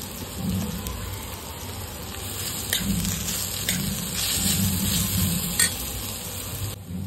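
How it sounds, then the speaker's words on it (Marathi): Grated sweet potato fries in ghee with a soft, steady sizzle and crackle, swelling slightly midway with occasional stirring scrapes. "तुपामध्ये आता आपण किसलेला रताळा टाकून घेऊया। मस्त त्याला 2 मिनिटं आपण फ्राय करून घेऊया"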